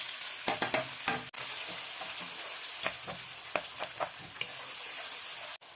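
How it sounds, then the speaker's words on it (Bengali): Chopped onion, about a cup, frying in oil with whole spices (star anise, cardamom, cinnamon) for a soybean biryani, a steady close sizzle with repeated scraping stirs of a spoon in the pan. "একটু ভেজে দিয়ে দিব 1 কাপ পরিমাণ পেঁয়াজ কুচি"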